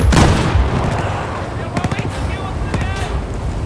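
A bomb blast in the Battlefield 4 campaign, a heavy loud boom at the start that rumbles and crackles away, followed by scattered smaller pops and debris with a voice speaking over it.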